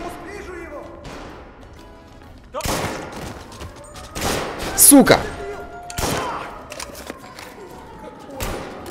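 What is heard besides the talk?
shotgun shots in Mafia: Definitive Edition video game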